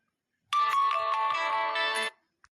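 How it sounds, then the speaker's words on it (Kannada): A phone ringtone signals an incoming call, a bright melodic tune ringing for about a second and a half and then stopping abruptly, with a faint click after; no voices. "ಯಾರೋ ಫೋನ್ ಮಾಡ್ತಾ ಇದಾರೆ ನೋಡು ಯಾರಂತ"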